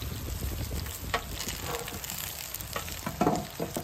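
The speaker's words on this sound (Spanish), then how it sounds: "Vamos a dejarlos que doren bien." Onions and chiles frying in a pan, a continuous moderate sizzle with occasional spitting pops and a few soft utensil knocks, no voices.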